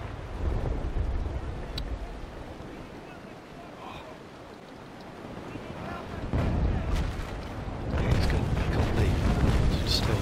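Naval cannons on sailing brigs in the game Naval Action Legends boom in scattered heavy blasts over wash and sea surf, with a voice talking at times.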